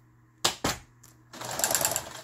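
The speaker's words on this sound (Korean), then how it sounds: "박음질을 해봐야 되죠" A household Yamata sewing machine under repair clicks twice sharply as it is set up, then runs into a fast, close, rattling burst of stitching for about a second.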